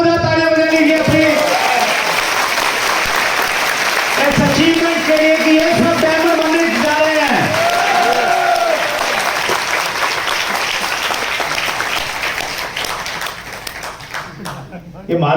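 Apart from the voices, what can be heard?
audience applause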